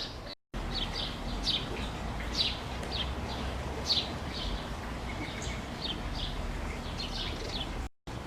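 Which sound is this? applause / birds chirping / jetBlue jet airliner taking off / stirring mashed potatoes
birds chirping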